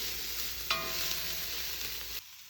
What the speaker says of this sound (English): just putting our minced meat in now